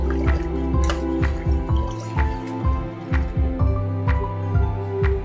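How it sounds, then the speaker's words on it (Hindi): Coconut milk and jaggery boil together in a pot for rice-ball kheer, giving steady, close bubbling with soft plops and drips repeating throughout. "नारियल का दूध और गुड़ अच्छी तरह से उबाल रहा है।"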